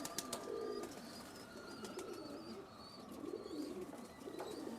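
Teddy pigeons kept in a loft give repeated low, throaty coos, faint and somewhat distant, mixed with occasional high chirps and light clicks.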